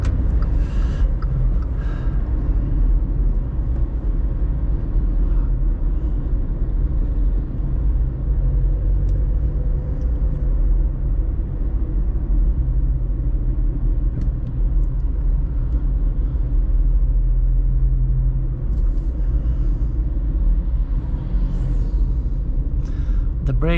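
A VW Up 1.0 60hp small car engine drones steadily from inside the cabin while accelerating in first gear at night, a low rumble holding throughout with faint clicks and no clear rise in pitch.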